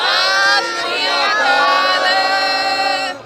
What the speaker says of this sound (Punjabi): ਤੁਸੀਂ ਜੀ ਇੱਕ ਵਾਰੀ ਸਾਰੇ ਇਕੱਠੇ ਹੋ ਕੇ ਜੈਕਾਰਾ ਲਾ ਦਿਓ ਜੀ